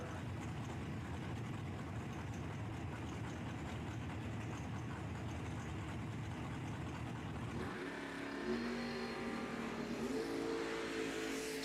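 Door cars at a drag race, including a Corvette Roadster, give a dense, steady engine roar that shifts partway through into rising, revving tones as the cars accelerate, heard from a distance with no talk.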